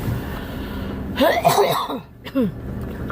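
A person coughs and clears their throat a few times in short rough bursts, close and fairly loud, with a brief pause between.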